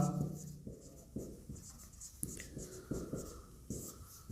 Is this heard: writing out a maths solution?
yes